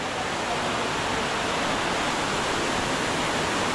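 Loud, steady rush of water roaring without pause, a dense broadband wash like a torrent pouring nearby, with no voices: heavy-rain runoff flowing into Sumaguing Cave in Sagada.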